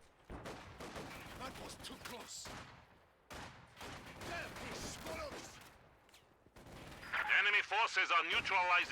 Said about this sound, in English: Incendiary grenade by Nosliw to force away those conscripts out of the heavy cover